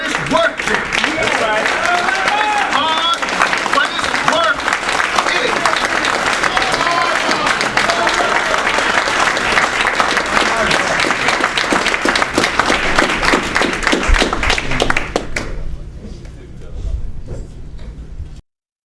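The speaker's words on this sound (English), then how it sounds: "Give them another round of applause." Audience applause at a lecture, long and dense clapping from a large crowd with voices and cheers mixed in, loud and sustained before stopping abruptly.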